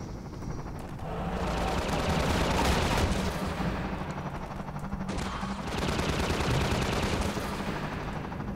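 A gunship in Half-Life 2 rakes a hospital building's roof with sustained rapid gunfire, a dense roaring burst that carries on almost without pause and swells loud again partway through.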